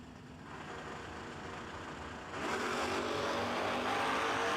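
Pontiac Firebird and Chevrolet Camaro engines roaring at a no-delay drag race, steady loud engine noise that swells and grows brighter halfway through as the cars launch, with no voices.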